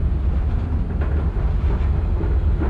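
A train rolls steadily through Microsoft Train Simulator on its approach to Emu Plains Station, with a continuous loud low rumble and faint rail clatter and no voices.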